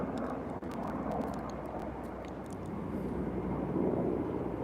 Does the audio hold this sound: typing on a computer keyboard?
no